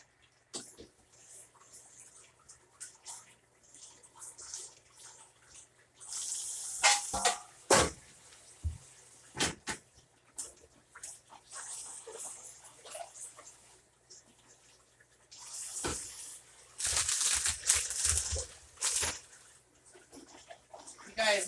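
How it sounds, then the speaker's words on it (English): Kitchen tap water running over vegetables being rinsed in a sink, with intermittent splashing bursts and trickling between them, moderately close and of varying loudness. "I'm going to give them a quick rinse here."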